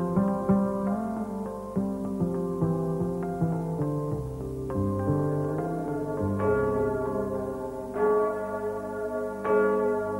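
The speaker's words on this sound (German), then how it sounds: "Im letzten Geschoss des Glockenturms hängt die drittgrößte Glocke der Steiermark, die Liesel." The Liesel, the third-largest bell in Styria, hanging in the top storey of the Graz clock tower, rings out with repeated deep, resonant strikes whose long humming overtones overlap and sustain continuously, with no talk.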